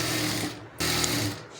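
Sewing machine stitching the front part of a blouse, a steady close motor whir running throughout with a brief pause near the middle before resuming.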